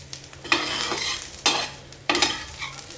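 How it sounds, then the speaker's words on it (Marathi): Fresh coriander leaves stirred and tossed on a hot tawa, giving a steady sizzle broken by three scraping strokes, close and clear with no voices. "अशा पद्धतीने फक्त गरम तव्यावर मिक्स करून घ्यायचे आहे"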